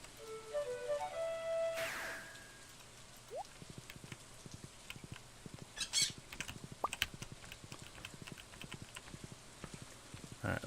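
Rain pattering steadily in the farming game Stardew Valley, a soft, even scatter of small drops with brief game chimes and tones over it and no one talking.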